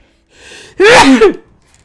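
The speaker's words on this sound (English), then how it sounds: "Sneeze incoming." A brief inhale, then one loud, explosive sneeze close to the microphone, followed by quiet.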